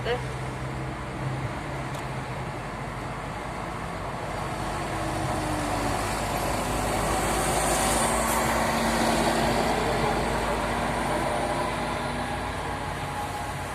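A car driven during a driving lesson on a ring road around Konya's Karatay area, its engine and road noise steady at first, then swelling and building from about midway as it accelerates, heard from inside the cabin.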